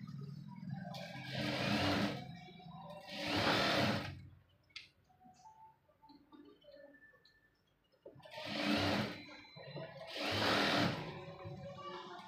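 A sewing machine stitches along the side of a piece in four fast, whirring bursts of about a second each, paired with quiet pauses between, close and clear with small handling clicks in the gaps.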